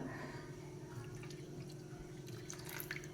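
Water runs and trickles steadily into a pot, a soft continuous liquid flow with faint splashes, fairly quiet and without talk.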